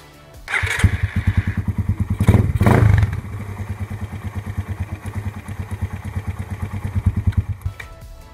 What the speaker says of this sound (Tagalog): buhayin po natin ang makina kung may singaw bago natin hapitan yung canister